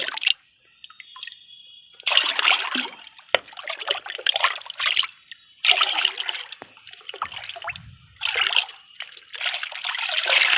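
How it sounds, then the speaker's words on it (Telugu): A bucket of water is poured and stirred to mix a homemade organic fertilizer, giving repeated close bursts of splashing and trickling separated by short quiet gaps, with a faint low voice in the background. "ఇది ఒక బకెట్ వాటర్ కదా మనము త్రీ మార్క్స్ ఇది పోసేసుకున్నాం"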